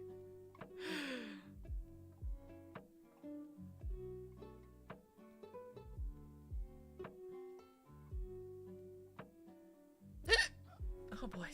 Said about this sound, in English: Hiccups.